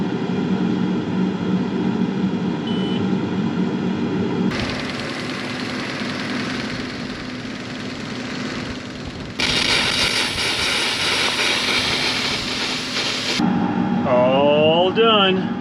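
Compressed air forced through a pump into sprinkler lines and out the jets for winterizing, a steady loud rushing hiss that shifts in strength as each section is blown out, with an engine-like drone underneath.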